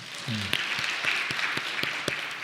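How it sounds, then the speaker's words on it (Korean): A church congregation gives a soft, distant round of applause with a few sharper claps standing out, and a brief voice is heard at the start. "박수 한번 하겠습니다"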